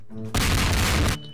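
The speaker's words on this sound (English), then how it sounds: "Oh, that's a grenade." A grenade goes off in Garry's Mod as a single loud, close blast lasting most of a second, then quickly drops away.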